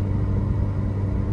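An automatic Kia Visto climbs a steep hill with the throttle held open, its engine giving a steady low rumble and drone close by with no talking.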